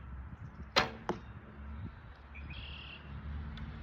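Traditional bow loosed once with a sharp twang and a quick follow-up thwack, close and clear, with birds chirping faintly outdoors behind it.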